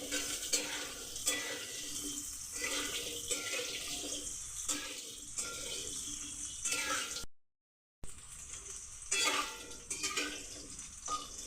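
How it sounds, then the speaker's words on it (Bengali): Potatoes fry over medium heat in a pan for a vegetarian pointed gourd dish, with a continuous sizzle broken by frequent close stirring and scraping strokes and a brief silent gap partway through. "ভেজে নেব লাল করে একটু সামান্য।"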